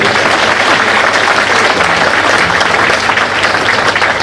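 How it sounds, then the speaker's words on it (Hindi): A crowd at an enrolment meeting claps loudly and steadily, a thick, unbroken roar of many hands that holds at full strength throughout. "जोर से ताली बजाओ अपने लिए।"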